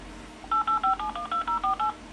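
Telephone keypad dialing during a Windows XP phone activation call: about ten crisp DTMF tones in a quick, even sequence, each a short dual-pitch beep, loud and clear over faint background hiss with no talking.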